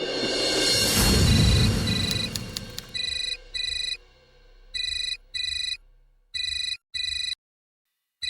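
A telephone rings in a drama scene with a repeated electronic ringtone, bursts in a regular on-off pattern following a swelling musical sting, loud and close, no talking.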